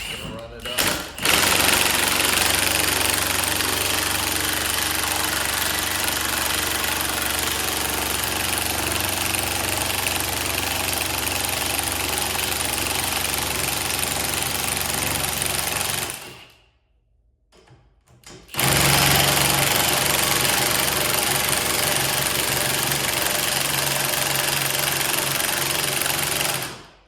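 A 1/2 inch Milwaukee impact tool runs steadily to crank up a jack for a snowmobile lift, a loud continuous mechanical whir that cuts out for about two seconds, then resumes just as strong.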